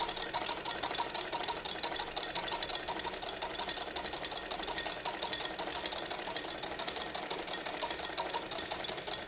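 A sewing machine runs a single line of stitching along a garment hem with fast, continuous mechanical chattering at an even rhythm, close by and unbroken, with no one speaking.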